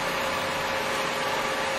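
A Birmingham 13x40 lathe spindle runs at 182 RPM, a steady, even mechanical hum with a constant tone and no change across the short stretch, close and moderately loud with no talk.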